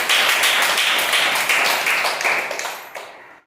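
A run of about a dozen loud, close hand claps in a quick steady rhythm that tails off into silence after roughly three seconds.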